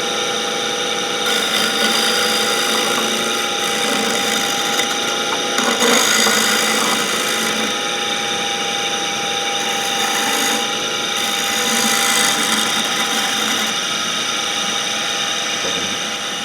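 A bowl gouge makes slicing cuts on wood spinning on a lathe, a loud, continuous scraping and hissing roar with a steady motor hum underneath, swelling slightly as the tool bites, with no voices.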